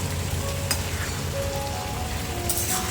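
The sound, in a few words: momos being stir-fried and mixed in a pan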